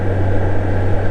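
Steady, loud, low droning roar of a Honda GL1800 Goldwing motorcycle on the move, captured from a helmet microphone, with a constant low hum under broad wind rush and no talking.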